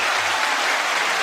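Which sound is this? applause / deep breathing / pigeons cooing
applause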